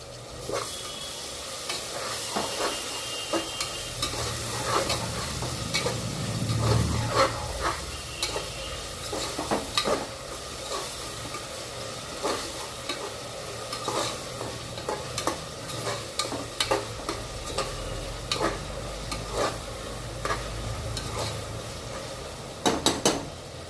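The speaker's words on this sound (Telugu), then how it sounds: "ఇప్పుడు టమాటాలు కూడా వేసుకోవాలి ఒక రెండు టమాటాలు కట్ చేసుకున్నాం కదా" Sliced tomatoes for chicken pulao fry in a pan under a steady, close sizzle, broken by frequent spoon scrapes and clanks as they are stirred.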